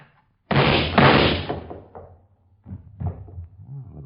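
A door being wrenched open in an old-time radio drama, a loud sudden burst of banging and scuffling that fades into rumbling movement, followed by low muffled voices.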